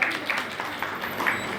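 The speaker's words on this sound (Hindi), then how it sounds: "वेरी नाइस, ताली बजाओ बच्चे के लिए।" Children clapping for a student in a classroom on natya shastra, a light scattered round of applause mixed with talking.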